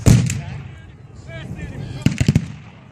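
Mountain howitzers firing at a Civil War reenactment battle in Aiken, with a heavy boom at the start and a quick cluster of sharp blasts near the end, moderately loud over outdoor crowd ambience.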